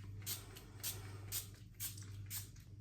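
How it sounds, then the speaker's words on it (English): Makeup setting spray misted from a pump bottle, five or six short airy bursts in an even rhythm, close and soft over a low steady hum. "But I'm just gonna spray this."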